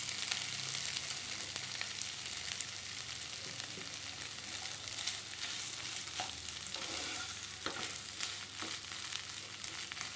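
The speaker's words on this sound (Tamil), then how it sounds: "நல்லா கலந்து விட்டுக்கோங்க." Boiled mashed potatoes being stirred into vegetables frying in a pan for veg frankie, a steady sizzle with repeated scraping and stirring strokes, close and continuous, with no talking.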